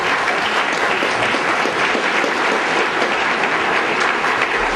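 A lecture-hall audience at the Stegner Symposium breaks into loud, dense, continuous applause welcoming a speaker, sustained evenly throughout with no talk.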